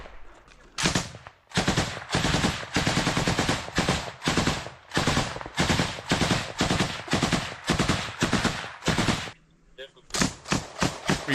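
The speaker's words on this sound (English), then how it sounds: "We can now see them firing through the bush in front of them" MG3 machine gun fired in combat in Ukraine, loud close bursts of rapid automatic fire running almost nonstop, broken by a couple of short pauses, with no voices.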